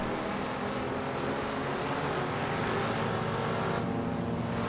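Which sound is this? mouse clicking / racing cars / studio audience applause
racing cars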